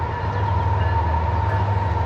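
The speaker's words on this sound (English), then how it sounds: "there must be a train close by" A train moving close by gives off a steady low rumble and a sustained mid-pitched hum, unchanging for about two seconds.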